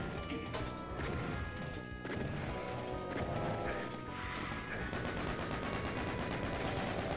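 Shotgun blasts from the Doom game MAP04 Little Oasis, heard as loud, punchy bursts over a constant dense layer of game sound effects and music with no letup.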